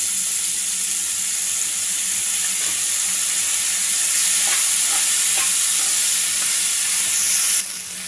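Small bitter gourds, washed in turmeric water and drained, frying and being stirred in a pan, with a steady close sizzle and hiss throughout and a few soft stirring scrapes.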